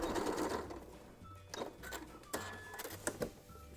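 A sewing machine stitches a fabric face mask in short bursts of mechanical whirring, separated by brief pauses, close and fairly quiet.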